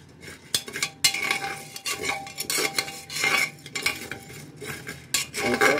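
Rice is stirred and dry-roasted in a pressure cooker, with a metal spoon scraping and clinking against the pot in quick irregular strokes, close and moderately quiet.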